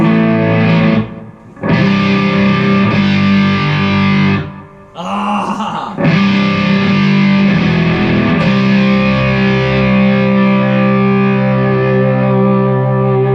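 Heavily distorted electric guitar through the dirty channel of a MegaTone GH35TI amp roars with sustained, saturated chords, broken by brief pauses and a short shout before ringing on.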